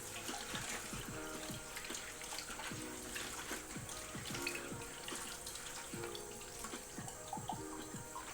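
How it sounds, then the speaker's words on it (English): Hot water running steadily from a tap, a continuous splashing stream with small irregular drips and bubbling, close and fairly quiet, with no talking. "oh, this is hot water, by the way."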